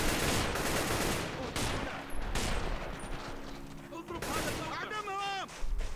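Gunfire and explosions from the multiplayer battle in the video game Men of War: Assault Squad 2, dense continuous combat noise with sharp bursts, plus game sound effects and voices talking over it.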